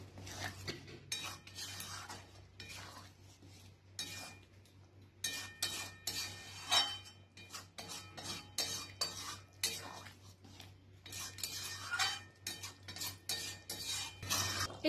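Chana paneer being stirred in a pan with garam masala and ghee, a spoon scraping and clinking against the metal in steady repeated strokes, close and fairly quiet over a low background hum.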